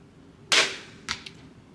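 A crossbow fires during a hunting scope test, giving one sharp close snap and release followed by two fainter, quicker knocks shortly after, with quiet surroundings and no talk.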